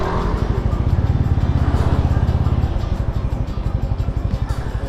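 A small motorcycle is ridden slowly through a tight, wide turn on a road near Lake Ranau, its engine putting out a steady, close, pulsing putter that continues throughout.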